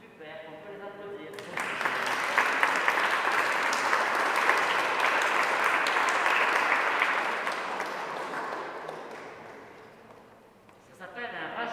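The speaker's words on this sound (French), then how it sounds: "Super, on peut les applaudir" A church congregation applauds during Sunday Mass for new young parish council members; dense clapping swells in after a brief quiet moment, holds for several seconds, then fades out as a voice resumes at the end.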